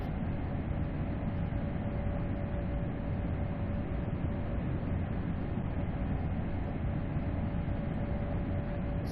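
German ICE high-speed train running at around 155 mph in a train simulator game, a steady low rumble and rolling drone with a faint constant whine, even and unbroken throughout.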